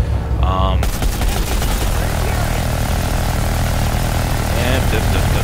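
Sustained automatic gunfire in Planetside 2, hosing a Harasser vehicle, a loud continuous rattling burst over engine roar that runs for several seconds with no break.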